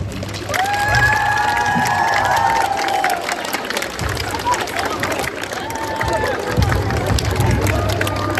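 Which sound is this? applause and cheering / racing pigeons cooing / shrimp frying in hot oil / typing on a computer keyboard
applause and cheering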